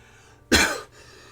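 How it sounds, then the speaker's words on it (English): A single sharp cough from a tired, unwell-looking man, fairly close and loud, lasting about a third of a second against a quiet room background with no talking. "He kind of coughs every few minutes."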